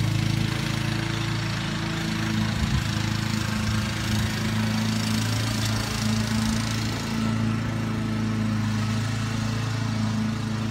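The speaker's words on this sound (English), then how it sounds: "I think she's liking it, the mower." A brand-new lawn mower runs steadily close by while cutting grass, its engine a loud continuous drone with a constant low hum and no pauses.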